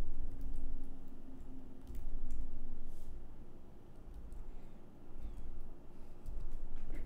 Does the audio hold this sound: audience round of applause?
no